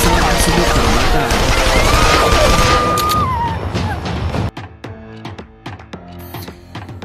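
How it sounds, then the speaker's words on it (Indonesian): Wild gunfire shot off inside an airplane in a film scene, a dense loud barrage of crashing shots over a chaotic roar for several seconds, then the firing breaks into scattered sharp separate shots and thuds. "tiba-tiba saja Harleen mengambil sebuah senjata dan melepaskan tembakan yang tak tentu arah"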